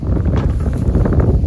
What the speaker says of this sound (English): So again, it's getting really windy.